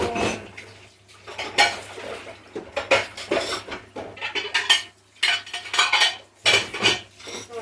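Dishes, pots and pans clatter in a home kitchen as a heavy load of cookware is cleared away after pickle-making, with repeated clinks and scrapes in uneven bursts, close and fairly loud, no talking.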